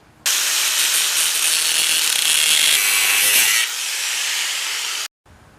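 Power saw cutting a metal part for a Willys Jeep go kart, a loud continuous bright hiss-whine held for several seconds, slightly softening near the end before stopping abruptly.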